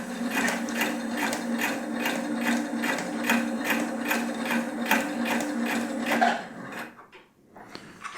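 A Husqvarna Topaz 25 sewing machine stitching fast, a rapid, even mechanical chatter of needle strokes close by that runs for about six seconds and then stops, leaving quiet.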